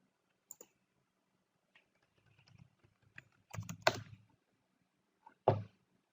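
Computer keyboard typing a password, several sparse key clicks followed by a short cluster of firmer presses, quiet and close in an otherwise silent room.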